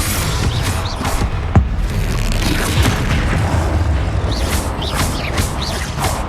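A Confringo spell in Hogwarts Legacy detonates as a loud, booming blast with a sharp crack near the start, set within a continuous roar of battle noise and whooshing spell effects.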